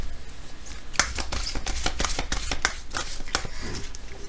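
A deck of Ganesh oracle cards being shuffled by hand, close up, with a series of sharp riffling snaps and soft card slides in an uneven rhythm.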